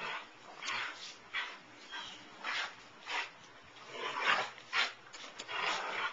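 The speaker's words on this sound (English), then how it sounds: "What's that crazy doggy doing?" A dog whimpers and gives short yips and barks in a repeated, uneven rhythm, fairly close and moderately loud, with no talking over it.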